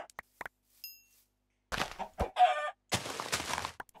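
Chickens cluck in the Minecraft video game, several short clucks and squawks in separate bursts with quiet gaps between them, fairly close, with no talk.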